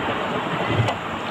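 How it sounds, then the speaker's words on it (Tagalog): Strong gusty wind at a boat harbor, a brief burst of rough blustering buffeting the microphone, loud and close, with no talking. "Lakas kasi ng hangin."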